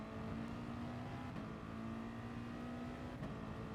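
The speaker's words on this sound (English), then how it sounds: "He's revving it out to the end of the bar." Race car engine in the GT Sport video game held at steady high revs, a loud continuous drone with a sustained tone, some faint crowd-like noise underneath, no talk.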